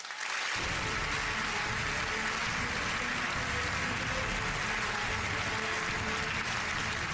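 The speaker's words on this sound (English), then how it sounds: "please applaud in your heads and now with your hands for a genuine marvel" A large theatre audience at the Royal Variety Performance gives a dense, sustained round of applause for Colin Cloud's entrance, the clapping swelling in within the first second and continuing evenly.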